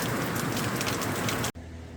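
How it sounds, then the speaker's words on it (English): Heavy rain dumps down on a farm, a dense, loud, steady hiss of pouring water that cuts off abruptly near the end, leaving a quieter background. "it is dumping down rain"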